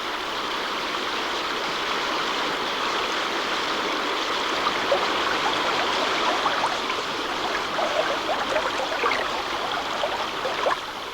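A waterfall pours into a rushing burn where ducklings are led downstream, a loud, steady broadband roar of churning water with occasional splashes, continuous and close, with no voices.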